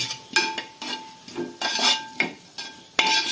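Food seasoned with ground black pepper stirred in a pan, a spoon scraping and knocking against the metal in irregular strokes over a faint sizzle, close and fairly quiet.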